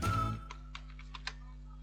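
Several scattered keystrokes tap on a computer keyboard, light and close, typing text into Photoshop after a brief low thump at the start, with quiet room hum underneath.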